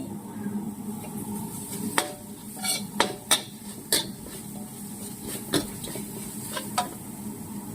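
Chicken offal, including heart and liver, is stir-fried in a pan. A spatula gives sharp, irregular scrapes and clanks against the metal over a soft, continuous sizzle, heard up close.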